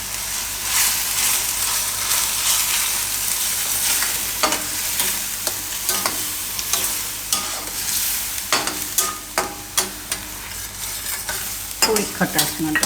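A spoon stirring paneer and broccoli curry in a pan with coriander-cumin powder and yogurt, steady sizzling under repeated scraping and clinking strokes, close and continuous with no talking.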